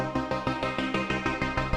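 A VPS Avenger synth preset called Paragon 95 plays a rhythmic pulsing pattern of repeated bright chord stabs, steady and even, with no voices.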